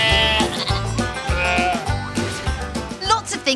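Sheep bleat repeatedly in a farm setting, with several wavering calls overlapping one another. The bleats are close and loud, and no one speaks.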